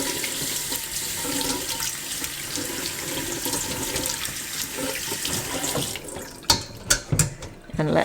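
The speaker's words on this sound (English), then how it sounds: "I'm just going to give it another quick rinse" Homemade paneer gets a rinse under a running kitchen tap, a steady close splash of water into a sink that stops near the end, leaving a few short knocks and clatters.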